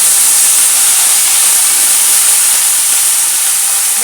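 Carrots and drumstick go into a pan of softened onions for sambar, giving a loud, continuous hiss that holds steady from start to end with no voices.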